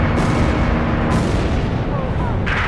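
Continuous loud gunfire and booming blasts in the video game Ace Combat 5: The Unsung War, dense and overlapping, like a heavy battle scene with no clear pauses.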